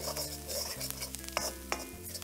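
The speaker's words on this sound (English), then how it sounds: "we will stir fry this for about 15 to 20 seconds in high flame" Chopped garlic and green chili being stir-fried on high flame for a crunchy corn pepper dish: a soft sizzle under quick metallic stirring scrapes and a couple of spatula clinks, faint and close, with no talk.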